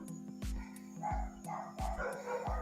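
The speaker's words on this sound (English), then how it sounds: "You hear the dogs in the back?" Dogs barking somewhere in the background, a series of faint, separate woofs spaced roughly half a second apart over a steady low hum, with no talk.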